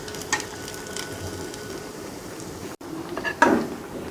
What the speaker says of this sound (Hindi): आप थोड़ी सी तेज़ आंच पे इन्हें डीप फ्राई करेंगे तो ये इंशाल्लाह ताला बड़े अच्छे फ्राई होंगे।